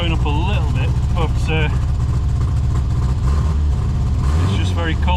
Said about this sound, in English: So cool having an Austin Allegro just running on your drive like this.